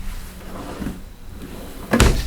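A full-extension drawer on ball-bearing steel glides slides along its runners, then shuts with a sharp knock near the end, close and fairly loud, inside a 2015 Coachmen Sportscoach Cross Country 404RB motorhome.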